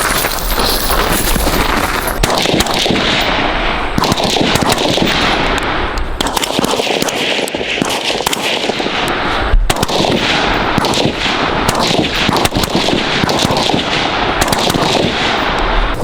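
AR-15 rifle fired from the prone position on dirt at an outdoor range, loud sharp reports repeating through the whole stretch with echoing tails between shots and no talk.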